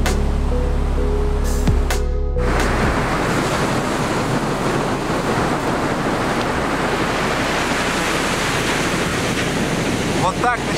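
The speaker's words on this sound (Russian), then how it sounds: "очень круто просыпаться на берегу океана от шума прибоя" Indian Ocean surf on a Mozambique beach rushes and roars steadily, close and loud, with wind buffeting the microphone after a brief opening clatter.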